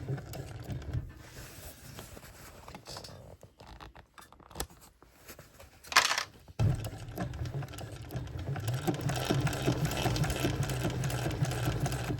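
A sewing machine stitches bag binding right beside a seam, a steady close mechanical whirr that pauses briefly for a quick click of handling, then resumes louder and continuous.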